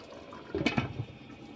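Water coming to a boil in a covered pot on a stovetop, giving a brief burst of bubbling and gurgling at close range, alone with no talk.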